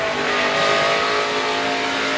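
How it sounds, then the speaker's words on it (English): Rear tires spinning on the number 29 pickup during a NASCAR truck race, heard within a loud, continuous engine roar with a droning, slightly rising tone and no break or talk over it. "You can hear the rear tires spinning on that 29 truck."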